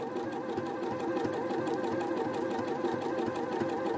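A sewing machine running a dense satin stitch to sew down a rectangular appliqué, a steady, fast, continuous mechanical whirr with an even rapid needle rhythm throughout, close and alone with no voices.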